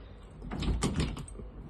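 Three mechanical clicks from the alarm lock of an armored Turkish steel apartment door, close and moderately loud, spaced a few tenths of a second apart with a short rattle of the door hardware, no talk.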